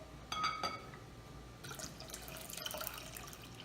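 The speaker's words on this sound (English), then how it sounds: "now we're gonna pour 2 cups of cold water in, and Brian's gonna do it." Two cups of cold water poured from a container into orange jello mix in a kitchen, a faint steady splashing and trickling at low level, with no talk.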